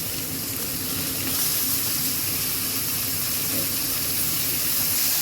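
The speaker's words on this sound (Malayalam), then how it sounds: "സബോള ഒന്ന് വാടി വന്നപ്പോൾ ചിക്കൻ ഇട്ട് കൊടുക്കുന്നുണ്ട്." Chicken dropped into a pan of wilted onions, a steady loud sizzle and hiss of frying that swells slightly and holds throughout.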